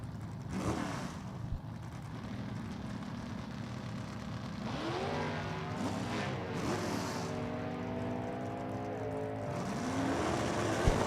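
Drag racing at a strip, with a 1985 Pontiac Firebird automatic and a Mustang running a 351 Cleveland V8 with an automatic transmission. Engines rev and rise in pitch in repeated sweeps, growing louder toward the end with no talk over them.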